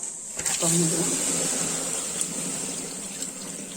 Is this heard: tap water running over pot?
yes